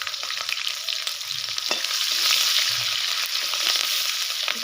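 Onion and green chili frying in hot oil for mutton curry, a steady close sizzle with faint stirring clicks.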